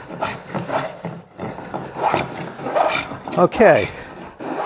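Spokeshave set for a heavy cut shaving resinous pine fatwood, giving rough rasping strokes in uneven bursts at close range, with a voice talking briefly over the work.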